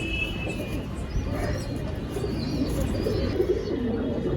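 Soft, low cooing from a red male pigeon among a sale lot of pigeons, repeated gentle calls over a steady background hum with faint chirps nearby.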